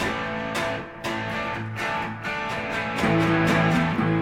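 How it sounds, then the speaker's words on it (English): Nasty, rip-roaring power chords ring out on a Japanese-made Gretsch electric guitar, struck several times in a loose rhythm, loud and distorted with sustained overtones between strikes and no talking. "That's a power chord. That's pretty nasty."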